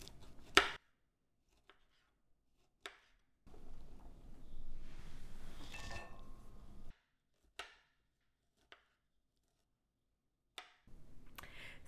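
Cauliflower florets finely chopped with a knife on a board, a few sharp isolated chops then a longer burst of rapid chopping, quiet between strokes, close and alone.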